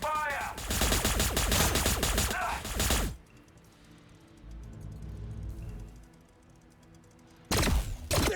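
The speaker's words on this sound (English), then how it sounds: "They're shooting back!" Rapid, loud gunfire crackles in a Warhammer 40,000 tabletop-style battle game between Astra Militarum and T'au forces, a sustained burst that drops to a low rumble before another short volley breaks out.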